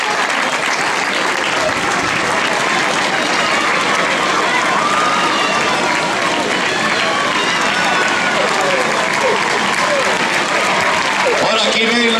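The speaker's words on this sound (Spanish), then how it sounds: "Y ese aplauso que tienen que recibir todos" Dense, continuous crowd applause greets runners finishing a 10K road race in A Illa de Arousa, loud and unbroken throughout, with a commentator talking over it.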